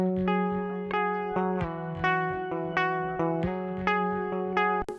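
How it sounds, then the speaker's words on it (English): Dry, unprocessed electric guitar from an HMG F plugged straight into a computer, its amp simulation bypassed: clean, plain picked notes and chords with sharp attacks and natural decay, played alone and fairly loud. "That is the sound of my HMG F plugged directly into the computer."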